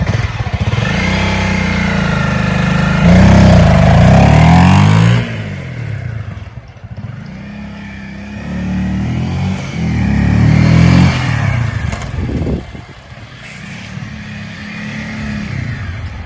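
A motorcycle engine revs during a launch practice, with loud close surges of throttle, a strong rise and fall early, then a second rev and lower idling between.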